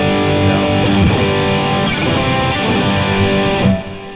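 A 12-string electric guitar with a P90 neck pickup plays a dense distorted riff in a Led Zeppelin style, loud and steady with no talk, ringing out briefly at the end.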